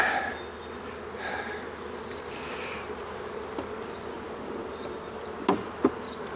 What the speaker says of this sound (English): Here's a bunch of bees. And they're all kind of chilling out.